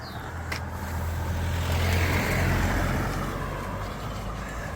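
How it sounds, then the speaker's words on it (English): A car drives past on a busy country road in Somerset, its engine and tyre rumble swelling as it nears and fading away, with steady low hum throughout and no talk. "Oh, another one. More traffic."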